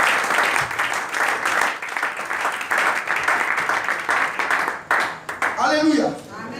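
A church congregation applauds in praise during a sermon on poverty, a sustained dense patter of clapping that swells and dips before a voice cuts in near the end.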